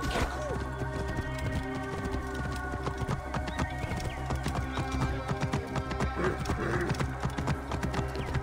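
Horse in Assassin's Creed Origins, a steady rhythmic clip-clop of hooves with game ambience around it, clear and fairly close, and a brief whinny mixed in.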